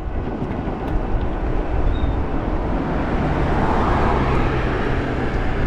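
A Canadian Pacific train rolls by near the Mississippi River, making a steady, loud broadband rumble and rail roar that holds for several seconds without a break and with no voices.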